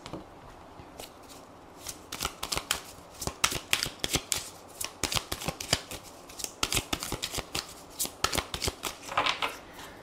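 Tarot cards being shuffled by hand, a close, continuous run of crisp riffling flutters and snaps in uneven bursts, quiet room otherwise.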